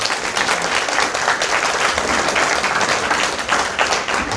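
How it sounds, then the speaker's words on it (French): Loud, dense applause from a conference audience, a continuous wash of many hands clapping at full strength from start to finish with no voices over it. "Les applaudissements vont vers eux."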